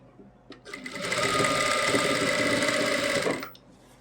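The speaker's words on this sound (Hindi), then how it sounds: "सिलाई के ऊपर सिलाई लगाएंगे" A domestic sewing machine stitches along an existing seam on an Afghani salwar, starting with a few clicks, then running at a steady fast whir for about two seconds before it stops. It is close and clear.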